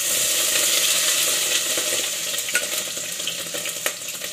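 Pork pieces hit a hot pan where garlic has already turned golden brown, giving a loud, steady sizzle with a couple of light clinks and no voices.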